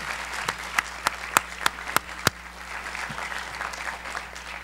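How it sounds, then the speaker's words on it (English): An audience at a 2012 Northeastern academic honors convocation breaks into applause, a few sharp, distinct claps first, then a steady, moderately loud patter of clapping throughout the hall. "We can clap for her, however."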